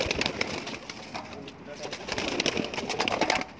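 Pigeons cooing and rustling nearby amid a busy outdoor background, with people talking over the birds throughout.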